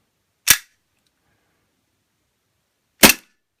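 Two sharp, loud shots from a full-metal WE Baby Hi Capa airsoft pistol, each a crisp isolated crack, spaced about two and a half seconds apart in silence.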